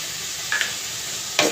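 Shrimp frying in a pan with fenugreek seeds, a steady oily sizzle with two brief louder crackling bursts, close by and with no talk.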